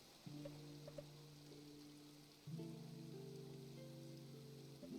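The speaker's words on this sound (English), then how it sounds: "It's raining." Steady rain falls in Genshin Impact, a soft continuous patter over sustained musical tones that grow fuller halfway through.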